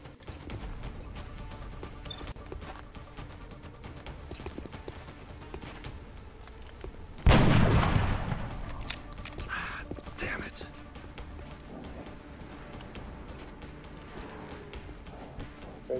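Gunfire in the XCOM video game: a single loud, sharp burst erupts partway through and fades in a lingering tail over a steady low game background.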